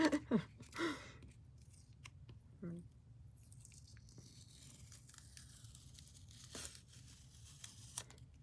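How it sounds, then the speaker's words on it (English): A few quick rips of tape being pulled and torn, close up, scattered among soft handling noises in a quiet room. "I'm just tearing tape."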